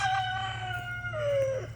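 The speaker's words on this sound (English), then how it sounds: "This is my favorite chicken in the whole world." A small Dominique chicken on a farm gives a drawn-out, wavering crowing call, close and clear over a low steady hum, with no talking.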